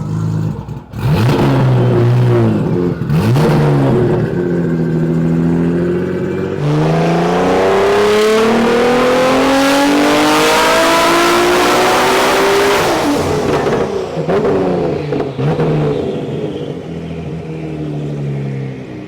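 A rebuilt Nissan GT-R engine revs loudly up close, its pitch sweeping up and down through several long climbs, with a raw, aggressive tone.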